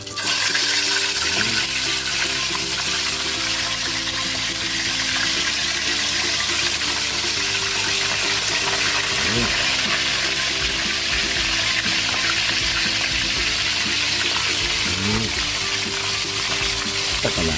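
Chicken pieces sizzle and crackle as they are pan-fried in hot oil, a steady loud hiss that lasts without pause.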